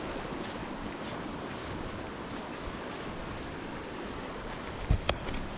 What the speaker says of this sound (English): I've made it back here to the bigger river crossing